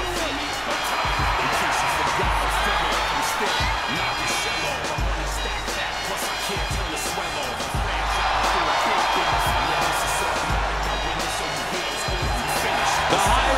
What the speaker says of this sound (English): Listen to this place. No one else gets a reaction from the crowd like John Cena